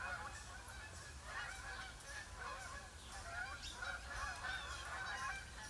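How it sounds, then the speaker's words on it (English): A bunch of Canada geese call out together in Michigan, sending a steady, overlapping stream of honks from a moderate distance above low wind-like rumble, and nobody speaks. "Canadian geese."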